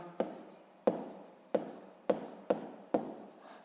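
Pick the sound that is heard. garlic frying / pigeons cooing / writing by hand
writing by hand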